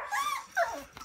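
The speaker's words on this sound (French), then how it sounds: "un petit chiot, c'est un petit chiot ça." A small puppy gives a few close, high, thin whimpers and whines in quick succession, faint and alone.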